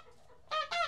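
A goose that has just laid an egg gives two short, loud honking calls in quick succession, close by after a moment of faint background.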